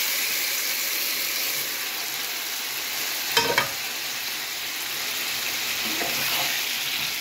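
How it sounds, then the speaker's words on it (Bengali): Marinated ingredients for echorer dalna frying in a hot kadai over a low flame, a steady close sizzle with a brief louder clatter of spoon or food hitting the pan partway through; no talking. "এইবার আমি ম্যারিনেট করা যেটা আছে এগুলো সব দিয়ে দিচ্ছি।"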